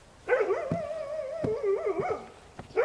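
A dog barks and whimpers close by in a French drama, giving a few sharp barks followed by drawn-out whining yelps, with no talk.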